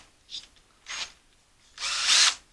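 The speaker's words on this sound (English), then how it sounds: "This here you just put in a drill" Blade sharpener bit for lawn mower blades spinning in a power drill, heard as two short whirring bursts followed by a longer, louder grinding spin, close up with no talk.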